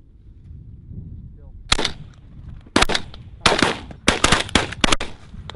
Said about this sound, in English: I shot five shells at that one.